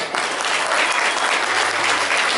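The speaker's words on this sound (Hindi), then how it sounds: "जो ताली बजाइए" An audience at a speech by the founder of the Gondwana Students Union breaks into sustained clapping, a dense, even wash of applause at steady loudness that fills the whole moment.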